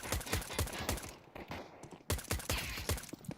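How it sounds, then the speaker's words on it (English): Gunshots fired through smoke in a Counter-Strike esports match, heard as rapid bursts of sharp shots in two clusters, separated by a brief lull of quieter game noise. "Nothing hits quite like those smoke shots."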